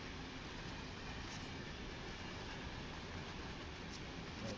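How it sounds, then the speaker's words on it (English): A train inside the video game Final Fantasy XIV rumbles steadily, a constant broadband roll of rail travel with faint clicks, heard alone at moderate level throughout. "So the version starts on this train."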